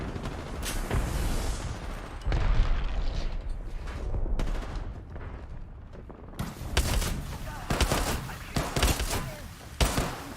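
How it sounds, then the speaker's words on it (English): A video game firefight with a thrown frag grenade, dense bursts of gunfire and heavy booming blasts rolling over each other, loud and close with a brief dip into quieter rumble midway. "Frag out. Grenade out."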